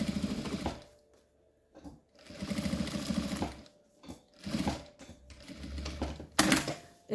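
Sewing machine stitching fabric together with its lining, close rapid mechanical chatter in several short runs separated by brief pauses.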